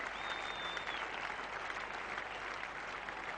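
Cricket crowd and teammates applauding at a 1987 England versus Pakistan Test match, a steady wash of clapping from a large distant crowd that holds evenly throughout.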